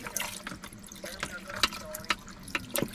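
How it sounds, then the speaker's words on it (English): Water is poured into a pan with a pork chop and baking soda while cooking in a van, with short splashes and drips, a thin trickle and a few sharp clinks close by. "And I'm going to add some water."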